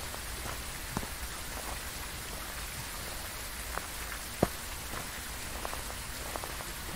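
Continuous rain in the ghost-hunting game Phasmophobia, an even hiss of drops striking surfaces, broken by a few sharp isolated ticks and knocks, with no talking.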